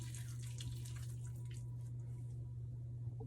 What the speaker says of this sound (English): So now it's time to wash our kale.